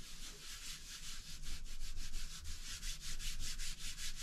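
Rhythmic strokes of a cloth or hand rubbing oil into a leather holster, a steady series of soft swishing passes close up, with no talking.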